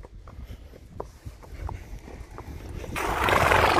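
A horse moving about with a few soft hoof thuds and shuffling, then a louder rush of rustling noise toward the end.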